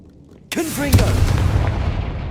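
A Confringo blasting spell goes off in Hogwarts Legacy, a sudden loud boom followed by a sustained roaring burst, with a short voice sounding briefly on top.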